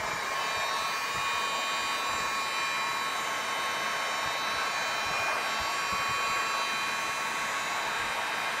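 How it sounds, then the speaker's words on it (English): A heat gun blows hot air steadily over a kayak leash, giving an even, loud, close-up rushing whoosh with a faint high whine that holds unbroken for the whole stretch, with no voices. "And then I'll use a heat gun for this because it does make it a bit neater."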